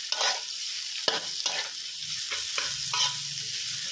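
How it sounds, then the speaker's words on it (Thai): Sliced shallots and garlic stir-frying in a pan over medium heat, a steady sizzle broken by several distinct stirring scrapes of a utensil, close and moderately loud with no talking. "ใส่ทั้งหอมแดงและก็กระเทียมนะครับที่เราซอยครับลงไปผัดให"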